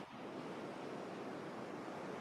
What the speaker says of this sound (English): I feel those waves rolling up on my feet